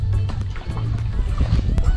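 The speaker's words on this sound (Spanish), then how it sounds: "Ya acabamos el recorrido en canoa por los manglares." A canoe glides through mangrove water on a guided tour, with steady paddle splashes and water sloshing close by. Low rumbling hull and movement noise runs throughout, with faint voices in the background.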